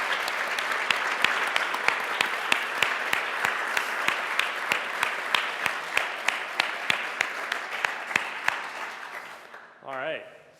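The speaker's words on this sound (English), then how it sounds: "just a big round of applause for all these guys." Enthusiastic audience applause at a behind-the-scenes panel for the Shadow of War live-action interactive film at Gnomon, a dense steady clapping that fades out before a brief voice speaks at the end.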